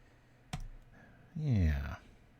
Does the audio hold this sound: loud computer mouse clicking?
yes